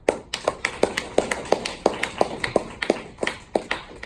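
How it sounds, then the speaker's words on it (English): A small audience at a workshop introduction claps for the next speaker, distinct individual claps in a sparse, fairly regular rhythm rather than a dense roar, close and alone with no talking. "Let's give him a series of applause."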